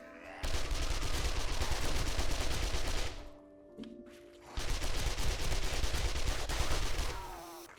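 Gunfire from shooting zombies in the video game 7 Days to Die: two long, loud bursts of rapid automatic fire separated by a short lull, with no talking.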